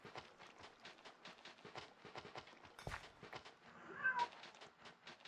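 A cat meows faintly in a game set on a stranded raft, a brief cry heard over a steady run of soft repeated tapping and clicking sounds, fairly quiet throughout.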